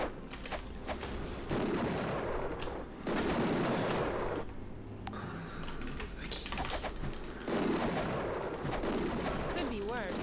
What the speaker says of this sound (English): It's an exploding boulder.